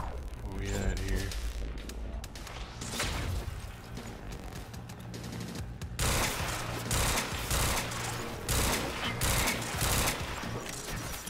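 Gunfire crackles through a Quantum Break video game scene, with rapid repeated shots and impacts over loud, dense action effects.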